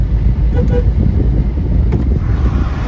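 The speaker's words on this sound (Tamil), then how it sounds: "ஏய் வண்டி வண்டி வண்டி வண்டி வண்டி வண்டி வண்டி." A motor vehicle on a road passes close by with a steady broad engine and tire roar, wind buffeting the microphone, and voices talking over it throughout.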